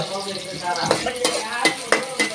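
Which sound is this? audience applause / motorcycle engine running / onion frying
onion frying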